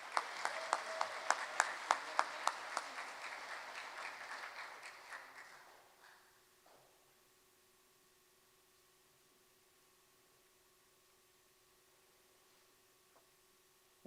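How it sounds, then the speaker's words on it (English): Audience applause at a city mayor's education awards ceremony honoring elementary school students: loud sustained clapping with sharp individual claps for several seconds, then fading away into a quiet room. "Big round of applause for Green Acres Elementary."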